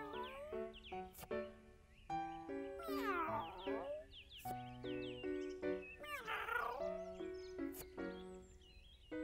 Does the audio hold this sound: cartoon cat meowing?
yes